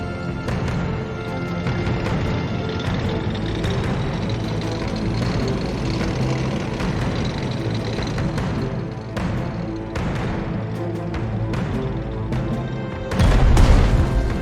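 Tank cannon fire from the WWII strategy game Strategic Mind: Blitzkrieg, heavy low booms sounding over a steady rumbling battle bed for a long stretch, with a louder, sharper blast near the end.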